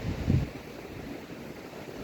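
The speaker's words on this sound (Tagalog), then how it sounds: "Malamig, 'di ba? Kasi mahangin." Cold wind blows outdoors on a walk in a scenic spot, making a steady broadband rush with a brief louder gust at the start and no voices.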